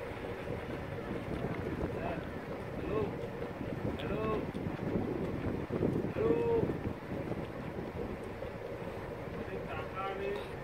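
A motor launch on a Sundarban river, its steady low engine drone and wind rush continuing throughout, with people talking and shouting over it.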